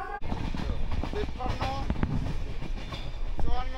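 Steady rumble and rattle of the 13153 Gour Express running from Kolkata toward Malda Town, heard from inside the train with a faint voice or announcement-like tones over the continuous noise.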